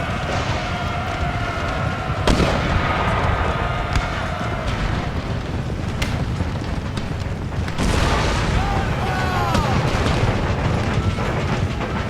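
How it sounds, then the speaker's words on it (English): Mortar fire booms through a battle in Empire Total War, with dull heavy thuds and sharp impacts over a constant roaring battlefield din, a few louder blasts standing out and faint whistling shells arcing overhead. "mortars, try and do some damage to these"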